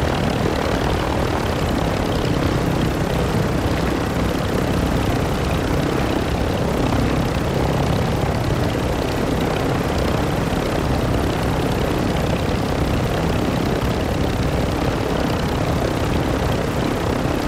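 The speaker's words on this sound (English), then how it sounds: "The chopper." Helicopter in a video game, a dense, continuous rotor and engine roar that stays loud and close throughout, steady with no breaks and no audible talk.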